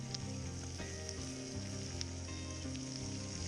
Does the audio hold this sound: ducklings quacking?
no